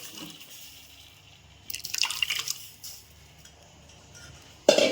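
Lentil rasam (pappu charu) is poured into a pan on a lowered stove, with a splashing, dripping rush of liquid in the middle and a sharp liquid clink near the end, heard close against a quiet background.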